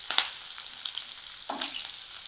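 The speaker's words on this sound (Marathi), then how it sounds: "मोहरी तडतडली की 1/2 चमचा जिरं घालायचं, कढीपत्ता, खेचलेल्या लसणाच्या 7 ते 8 पाकळ्या आणि याला परतून घ्यायचं." Mustard seeds, cumin, curry leaves and garlic sizzle and crackle in hot oil, tempering for a mixed-sprout usal, with sharp pops in two close bursts over a steady hiss.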